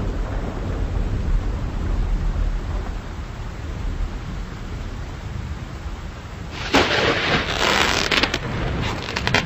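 A night thunderstorm rumbles with a steady low roar of rain and wind, then a loud crack and rolling burst of thunder near the end.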